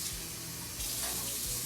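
Water runs steadily from a kitchen tap, a close, continuous splashing stream as a measured amount is drawn for taco seasoning in a slow cooker dinner.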